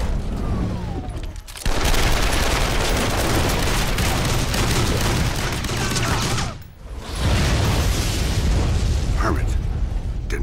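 Gunfire in an online board game, a dense, loud barrage of shots and bursts filling the whole stretch, broken by two brief lulls, with voices talking over it.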